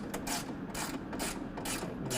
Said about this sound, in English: it's helpful to use an extension to get the ratchet away from this assembly here